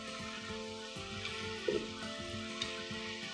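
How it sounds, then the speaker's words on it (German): Noodles frying with Chinese cabbage, carrot and pork in a pan, a steady continuous sizzle with occasional clinks and scrapes as they are stirred with two utensils, close and moderately loud, no voices. "Die Nudeln auch rein. Mit 2 Küchenhefe zum Rumrühren klappt es besser."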